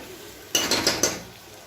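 Egg masala is stirred in a metal pan, giving four quick scraping clinks of a spoon against the pan in close succession, followed by quiet.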